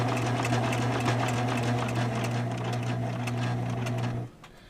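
A sewing machine stitches a half-inch seam on a bingo bag, giving a steady, loud mechanical whir with a rapid needle clatter that runs continuously and then stops abruptly near the end, leaving faint room noise.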